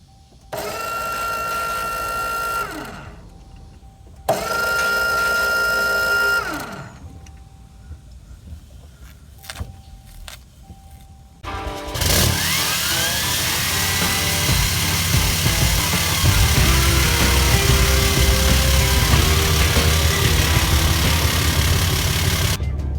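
An AirDog fuel pump on a 2010 Dodge Ram 2500 whirs in two steady priming bursts with pauses between, then the diesel engine starts and settles into a loud, continuous idle.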